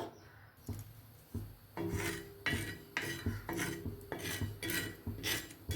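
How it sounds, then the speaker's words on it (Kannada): Fennel seeds are roasted in a pan with a utensil, giving repeated scraping and rattling strokes in an uneven rhythm, close and moderately quiet, with no talking. "ಎರಡನ್ನು ಕೂಡ ಹುರ್ಕೊಳ್ಳೋಣ. ಸ್ವಲ್ಪ ಹುರ್ಕೊಳ್ಳೋಣ"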